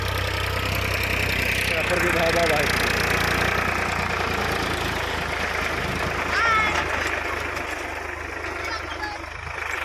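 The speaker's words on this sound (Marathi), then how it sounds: "आपल्या ट्रॅक्टरनं नांगराय चालू आहे" A tractor ploughs a field in heavy rain, its engine droning steadily through the whole stretch under a constant wash of rain noise, with a person talking over it.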